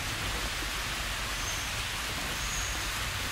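A small waterfall in a Costa Rican forest near Jaco pours in a steady, dense hiss of falling water. The rush is constant and fairly close, with no voices over it.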